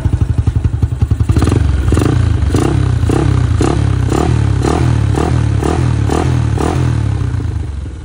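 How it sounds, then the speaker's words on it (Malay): A 2019 Yamaha LC135 motorcycle engine idles close by with a rapid, regular thumping beat that rises slightly in revs, loud and steady throughout. "dengan bunyi enjin."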